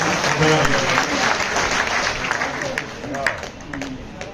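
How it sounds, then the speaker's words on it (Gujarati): Audience applause rings out at a Manirambapu anniversary festival celebration, a dense steady wash of clapping from a sizable crowd that holds loud for several seconds before thinning slightly, with voices mixed in. "મહાત્મા બાપુને એક વખત તાળીથી વધાવીએ"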